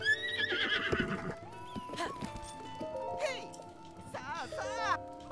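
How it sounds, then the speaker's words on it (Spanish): A horse in Zelda: Breath of the Wild whinnies loudly several times with shrill, wavering neighs, mixed with game music, hoof clip-clop and someone talking over the top. "vamos a registrar este caballo"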